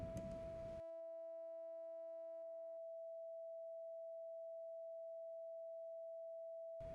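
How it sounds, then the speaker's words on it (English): Hard-synced sine wave oscillator on a Synthstrom Deluge synthesizer: a steady, pure electronic tone held for several seconds. Extra overtones sound at first and then drop away, leaving a clean single pitch, with brief bursts of noise at the very start and end. "So if I go all the way up to 50, I get twice the same sine wave."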